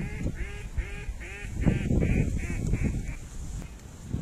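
A duck quacks repeatedly in a quick rhythmic series, fairly close, over rustling background noise, during a duck hunt at Jandara Lake.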